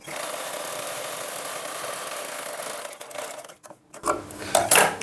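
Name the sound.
sewing machine stitching a blouse hem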